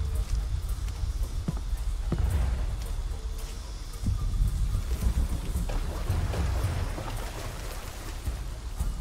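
Steady rain falls in a jungle scene of the PC game Shadow of the Tomb Raider, a soft continuous patter with low rumbles beneath, moderately loud and constant throughout.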